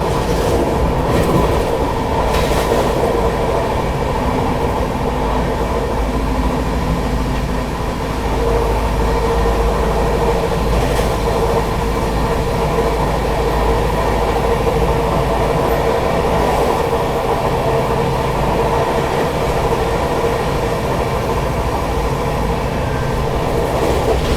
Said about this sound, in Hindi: अभी लगातार 130 की स्पीड भी मेंटेन किए हुए अपनी तेजस एक्सप्रेस